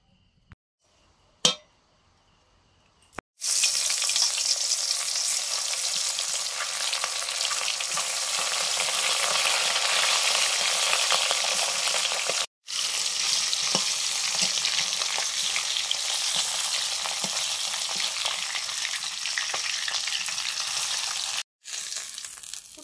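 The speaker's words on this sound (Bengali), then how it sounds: "মাছগুলো ভাজবো, নুন হলুদ লঙ্কা গুঁড়ো মাখিয়ে নিয়েছি, সর্ষের তেল" Fish rubbed with salt, turmeric and chilli powder fry in hot mustard oil in a kadai, giving a loud, steady, close crackling sizzle after a couple of clinks, with two brief cut-outs and no talking.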